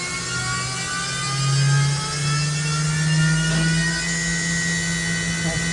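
A Mazak VCN 510C-HS high-speed CNC vertical machining center spindle spins steadily at 10,000 RPM, a loud continuous whine with layered tonal harmonics and a low hum, holding pitch with slight swells throughout.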